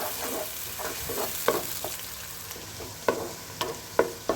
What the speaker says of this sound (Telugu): ఆనియన్స్ బాగా రోస్ట్ చేసుకున్నాము